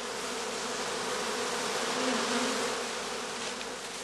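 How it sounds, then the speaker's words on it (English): A honeybee swarm drones loudly as it gathers into a cluster, a dense and continuous buzz from many bees heard up close, with no pauses and no voices. "They collect to form a swarm cluster of increasing size."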